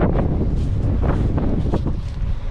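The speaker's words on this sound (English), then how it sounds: "Pardon the wind, it's extremely windy." Strong wind buffets the microphone in heavy, continuous low rumbling gusts.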